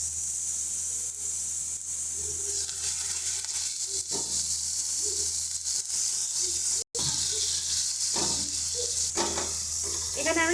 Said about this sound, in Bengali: ভালো করে মশলাটাকে কষিয়ে নিচ্ছি।